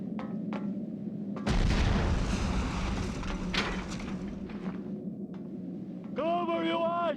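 A grenade blast and gunfire in the PS2 game Cold Winter: a sudden loud boom followed by a few seconds of dense rumbling gunfire, under continuous engine-like game noise, ending with a warbling tonal sound.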